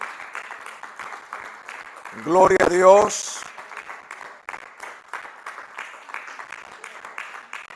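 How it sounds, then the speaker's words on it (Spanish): A church congregation claps as an offering of palms, steady soft applause running underneath, while a voice speaks and briefly rises over it in the middle. "Vamos a darle una ofrenda de palmas a nuestro Padre Celestial"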